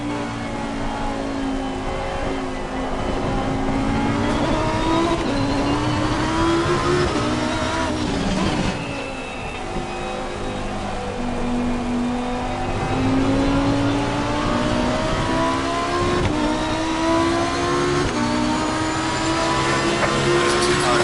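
A Lamborghini Super Trofeo race car engine howls continuously at close range while racing on a wet track, its pitch climbing and falling through the revs with a brief dip at a gear change before surging again.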